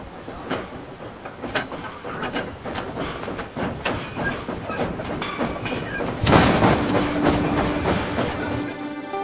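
A steam locomotive hauling raw copper near Waterbury, Connecticut rolls along the rails with a steady, close clickety-clack of wheels and rattling cars, swelling into a louder rumble toward the end.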